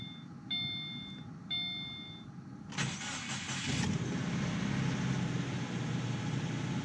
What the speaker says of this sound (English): the Crosstrek's first startup on Molygen